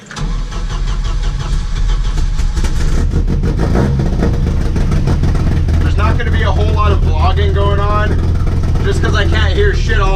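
Volvo 740 with a built naturally aspirated redblock engine revving hard and accelerating, a loud continuous engine roar heard from inside the car, rising in pitch toward the end.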